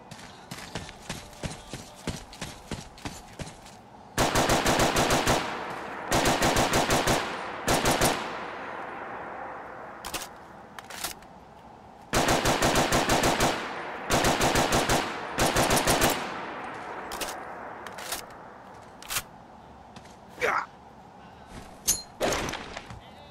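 Gunfire from a modded gun in Fallout 4 that uses 5mm ammunition, heard as short clusters of rapid automatic shots separated by pauses, then sparser single cracks, loud and close with no talking.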